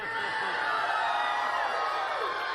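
An election-night crowd at a Massachusetts Senate special election rally for Martha Coakley roars and whoops in a dense, sustained wall of cheering that stays loud throughout.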